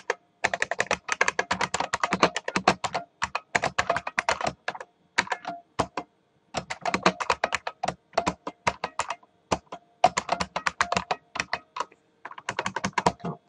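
Rapid clicking of a computer keyboard as code is typed, with bursts of keystrokes separated by brief pauses, close and fairly loud, with no talking over it.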